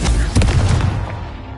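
A fiery blast from the Confringo spell in Hogwarts Legacy, a loud booming burst that rolls out and fades over about a second and a half.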